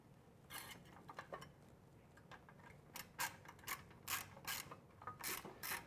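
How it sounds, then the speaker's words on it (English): A ratchet tightens a barrel clamp securing a Vance & Hines Competition Series slip-on muffler to a motorcycle head pipe, giving quiet, close clicking bursts in irregular short strokes. "Now we'll go ahead and tighten down the barrel clamp to secure the front of the muffler"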